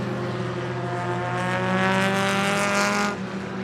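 Street stock race cars lapping Coos Bay Speedway, several engines droning loud and steady together, swelling briefly as a pack roars closer, then easing slightly.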